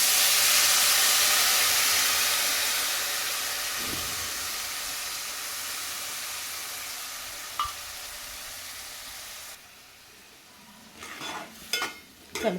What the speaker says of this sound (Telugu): ఇప్పుడు మనము ఇగో చింతపండు పులుసు తీసాను కదా ఈ చింతపండు పులుసు అనేది పోసేసుకోవాలి